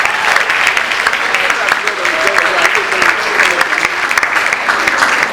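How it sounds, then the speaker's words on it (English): Audience at a 2017 graduation ceremony applauding the graduates, a dense, continuous clapping from a large crowd that stays steady and loud throughout. "Est-ce que nous pouvons les applaudir, s'il vous plaît?"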